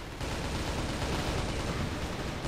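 Grenade blast in the video game Crossfire, a loud sustained boom and rumble filling the whole moment with dense low-end roar and no speech over it.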